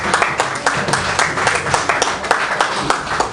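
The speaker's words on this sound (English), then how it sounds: "I want to give you all a round of applause." An audience at a Lake County Liberty Coalition political gathering breaks into loud, sustained applause, with many hands clapping in a dense, even patter and no talking over it.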